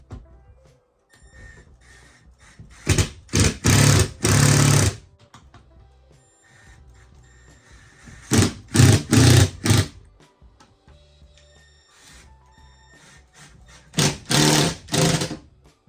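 A power saw cuts a small wooden trim piece down to size during a barn restoration, in three loud, separate bursts a few seconds apart with quiet gaps between them.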